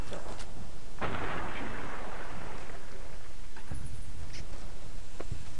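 Shotgun blasts in the video game Fallout New Vegas, a few loud sharp reports spaced irregularly over a constant noisy background, with no talk.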